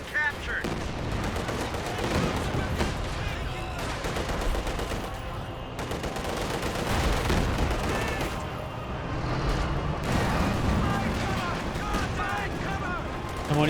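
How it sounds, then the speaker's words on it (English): Katyusha rocket barrage in the Company of Heroes 2 video game, a dense, continuous rumble of launches and explosions that stays loud and unbroken throughout the battle noise. "We're doing now the Katusha barrage."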